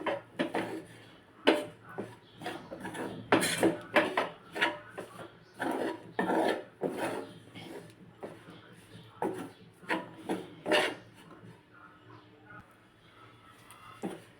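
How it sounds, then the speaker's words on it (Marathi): Besan roasting with onion and spices in a pan for Maharashtrian zunka, a spoon scraping and stirring in repeated short rasps and taps against the pan, close and fairly faint. "इथे आपण बेसन कांद्या आणि मसाल्यासोबत भाजून घेतलंय"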